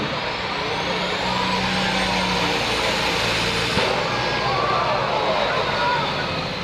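A Superliner truck pulls a sled at a truck and tractor pull, its engine roaring loud and continuous with a broad rushing wash, while an announcer's voice carries over it.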